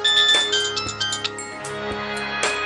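A phone ringtone chimes with bright, melodic tones, accompanied by clinks and light household noises.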